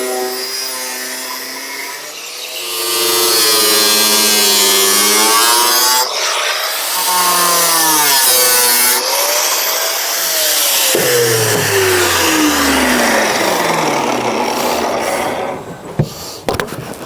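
A grinding disc cuts into the steel bulkhead of a Land Rover Defender 90, a loud close whining screech that rises and falls in pitch as the cut bites and eases, with a brief clatter at the end.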